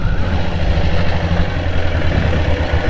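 Diesel Royal Enfield Bullet motorcycle engine idling steadily nearby, a loud, continuous low-pitched thump and rumble with no talk over it.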